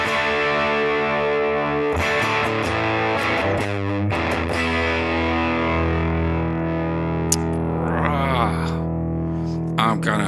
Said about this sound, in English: That's going to be a tube screamer into one of the 800s.